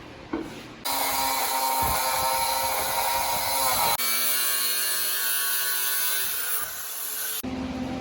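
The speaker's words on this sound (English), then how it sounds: "we just tacked it in place" A brake part is tack welded in place on a 2005 Baja Warrior off-road drag buggy: a loud, continuous crackling buzz lasting several seconds, starting abruptly and stopping just as sharply.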